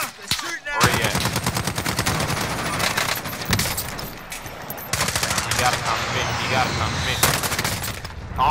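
Rapid bursts of automatic gunfire crackle almost continuously during a Call of Duty: Warzone match, loud and close with brief pauses, while players talk over the shooting.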